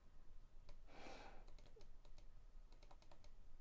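Quiet, quick bursts of clicking keys on a computer keyboard as a short phrase is typed, heard close with a faint background hiss and a brief soft swish.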